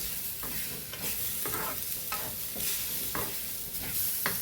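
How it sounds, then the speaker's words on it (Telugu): A half tomato goes into a thick, frying Kerala fish curry gravy, bringing a steady sizzle with a few sharp scrapes of a spoon stirring at a regular pace. "అలాగే ఒక హాఫ్ టమాటా వేస్తున్నానండి"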